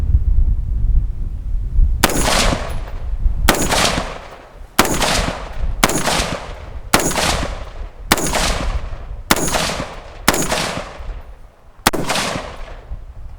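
Nine loud gunshots from a home-built 5.56 AR pistol fire outdoors at irregular intervals of about one to two seconds, each a sharp crack with a decaying echo, with a low rumble between shots and no one talking.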